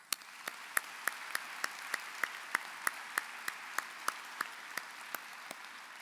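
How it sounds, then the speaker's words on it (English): Applause from a commencement audience at a high school graduation ceremony, sparse and fairly distant, with distinct individual claps spaced across a steady crowd clatter, no talking. "please recognize those here in the pavilion with a round of applause"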